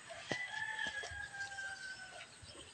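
Chickens cluck and a rooster crows nearby, with several sharp, short calls over a quiet background.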